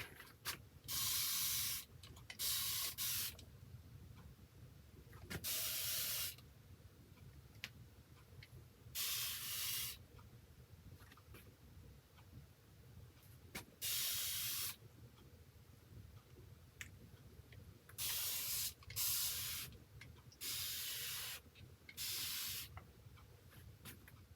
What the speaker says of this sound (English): I'm going to spray that again.